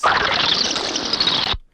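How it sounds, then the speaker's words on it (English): A short burst of harsh, crackling digital noise from a glitch-processed dial-up modem sample, dense and buzzy like a mangled modem screech, cutting off abruptly after under two seconds. "It really gives into this kind of glitchy thing."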